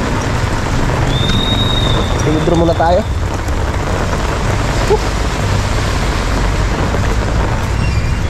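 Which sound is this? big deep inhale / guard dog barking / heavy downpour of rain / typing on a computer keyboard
heavy downpour of rain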